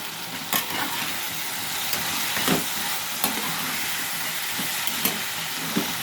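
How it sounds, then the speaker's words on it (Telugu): Brinjal, drumstick and tomato curry being stirred in a pan: a constant close sizzle with several spaced scrapes and knocks of the spoon against the pan, no voices. "ఒకసారి కలుపుకుందాం"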